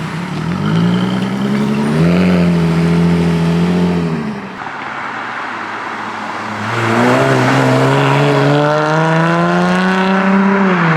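A Jaguar F-Type convertible engine revs hard, two long rising and falling roars with strong harmonic tones separated by a brief lower idle, loud and close with no talk.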